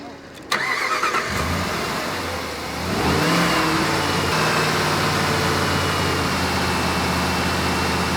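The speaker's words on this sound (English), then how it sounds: "Now we'll turn everything off and we'll rev it up." A Jeep engine cranks and catches after a click, then settles and climbs into a sustained loud rev that holds steady, close and continuous with no talk over it.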